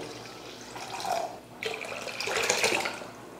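Water for rasam splashes and trickles into a pot in two bursts, a short pour followed by a louder, longer stream, close by with no talking.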